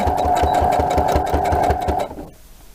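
A sewing machine stitches a seam on a T-shirt being turned into a dress, running in a fast, even rhythmic chatter close by for about two seconds before stopping abruptly.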